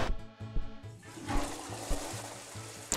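A toilet flushes in a house video game, a loud rushing surge of water with a rhythmic game music loop pulsing underneath, ending abruptly.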